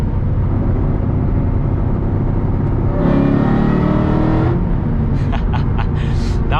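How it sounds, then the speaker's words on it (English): A Ford Cobra engine revving hard while accelerating through the gears, a loud, close, continuous roar with a rising pitch sweep in the middle and a shift near the end. "That was third gear. I could for sure got in a second"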